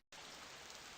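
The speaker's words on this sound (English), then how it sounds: "Today is hot with heavy rain and strong winds." Heavy rain falls steadily in a Pokémon video game while weather is being set, making a dense, even hiss that starts suddenly after a brief quiet moment.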